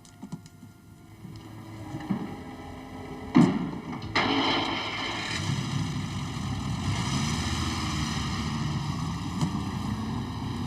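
An engine cranks with a clunk, then catches and settles into a steady, droning run that continues to the end.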